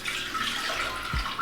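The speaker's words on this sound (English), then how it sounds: "I just put some water in," Cold tap water pours into a Thermomix bowl for warming yeast for pizza dough, a brief continuous splashing rush close by, ending with a low thud.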